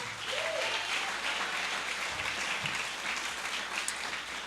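A church congregation at a youth fellowship worship service applauds together in a steady, dense wash of clapping that holds throughout, fairly loud and even with no voices standing out.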